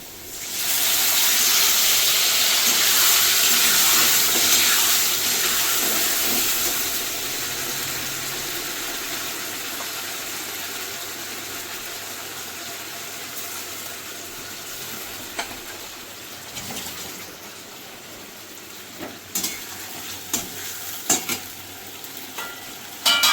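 Ginger, onion, garlic, tomato and chilli masala fries with potatoes in hot oil, a loud steady sizzle that slowly softens, broken by scattered clinks and scraping stirs near the end.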